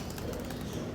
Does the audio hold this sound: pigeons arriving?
yes